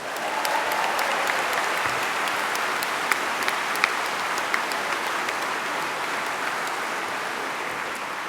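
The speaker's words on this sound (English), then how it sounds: "Give yourselves a huge round of applause." A conference hall audience applauds at a political party campaign gathering, a dense, sustained wash of many hands clapping at an even level throughout, with no voices rising above it.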